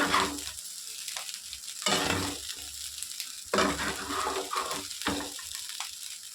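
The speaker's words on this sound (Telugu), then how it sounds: "ఇప్పుడు కొంచెం కొత్తిమీర వేసుకున్నాము ఒక నిమిషం ఉంచుకుందామండి సరిపోతుంది అన్నం బాగా వేగిపోయింది" Spicy street-style paneer fried rice with coriander fries in a pan: bursts of crackling sizzle rise with each stir and toss, then settle back, close and moderately loud.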